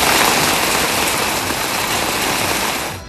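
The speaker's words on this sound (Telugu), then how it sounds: "జోరు వానతో ముంబై తడిసి ముద్దైంది" Heavy monsoon rain pours down in Mumbai, a dense, loud, steady hiss of water striking surfaces that stays constant and then fades out abruptly at the end.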